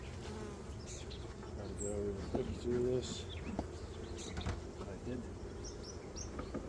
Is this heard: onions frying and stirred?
no